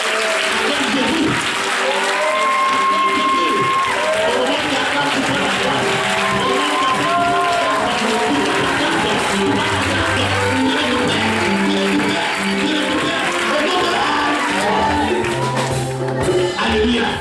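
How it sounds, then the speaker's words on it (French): A large indoor church convention crowd applauds and cheers loudly and continuously, with shouts and voices mixed into the sustained roar. "Acclame Jésus."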